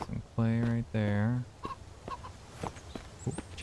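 A chicken in the survival game Mist Survival gives two loud, close clucking calls, after which someone talks over faint background sounds.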